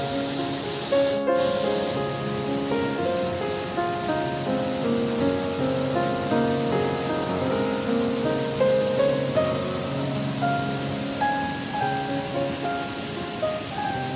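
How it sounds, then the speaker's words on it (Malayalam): Payyanikkotta waterfall in Kerala pours steadily as a broad, constant rush of falling water, loud and unbroken throughout, with faint tonal sounds threaded through the roar. "പയ്യാനിക്കോട്ടയിൽ സഞ്ചാരികളെ ആകർഷിക്കുന്ന ഒരു പ്രധാന ഘടകമാണ് പയ്യാനിക്കോട്ട വെള്ളച്ചാട്ടം"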